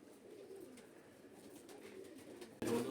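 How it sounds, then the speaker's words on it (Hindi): Rampuri pigeons coo softly for a few seconds, low rounded calls close by, ending in a sudden louder burst of noise. "ये कबूतर रामपुरी कबूतर है हमारे"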